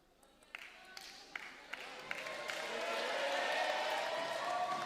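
Crowd at a women's Champions League table tennis final applauding Charlotte Lutz, a few sharp claps at first that swell into steady, fairly distant applause.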